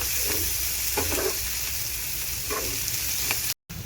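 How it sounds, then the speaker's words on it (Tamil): Onions sautéing in oil in a pan for egg podimas, a steady broadband sizzle throughout with occasional brief stirring scrapes, close and fairly loud, no talking. "பாருங்கள், வெங்காயம் நல்லா வதங்கிடுச்சு"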